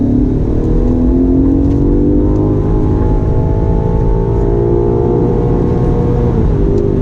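A 2019 BMW M5 Competition sedan driving a twisty road, its engine a steady loud drone heard from the cabin with rising and falling pitch as it accelerates through the bends, no talking.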